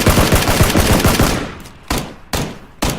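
Gunfire in the video game PUBG Battlegrounds: a rapid automatic burst that is loud and close, followed by three single sharp shots spaced evenly apart, with no talking.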